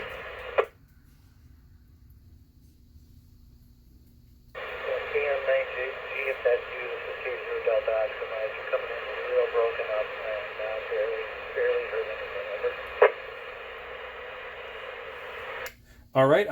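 A voice reply comes in over a Kenwood TM281 2m transceiver through a repeater, narrowband and slightly hissy, framed by squelch bursts at the start and end, after a short quiet gap.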